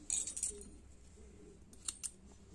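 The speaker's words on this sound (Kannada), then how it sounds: "ಥ್ರೆಡ್ ಅನ್ನ ಹೊರಗಡೆ ಎಳೆದು ಟ್ರಿಮ್ ಮಾಡ್ಕೊಳ್ತಾ ಇದ್ದೀನಿ" Scissors trimming thread while a bridal saree tassel is being made: a few quiet, quick snips near the start and again near the end, close and faint, with no speech.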